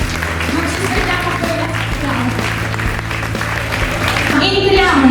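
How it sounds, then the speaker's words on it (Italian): A beauty pageant audience bursts into sustained, loud applause, dense clapping filling the hall throughout, swelling slightly toward the end. "Un grande applauso"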